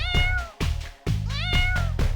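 A cat meows repeatedly up close, four or five drawn-out rising and falling calls in quick succession with no talking.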